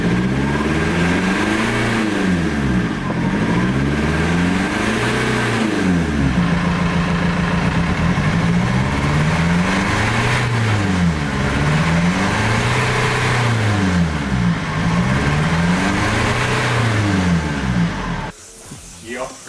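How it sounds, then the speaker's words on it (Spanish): A warmed-up BMW E46 320d with a 150 hp diesel engine is revved repeatedly up close, about half a dozen loud rising and falling blips in a steady rhythm before it cuts off abruptly. "vamos a revolucionarlo un poquito, que ya se ha calentado."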